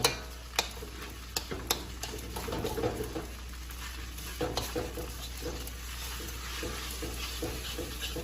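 Vegetables and rice are stirred in a hot pan, with soft sizzling underneath and sharp scrapes and clicks of a utensil against the pan at irregular intervals.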